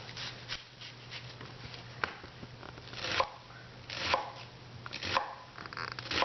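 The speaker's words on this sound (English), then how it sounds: "Round onion. This is the large one. You have to chop this." A knife chops a large round onion on a board for Korean chicken dumplings, with irregular crisp cuts and louder chops about once a second, close and alone without talk.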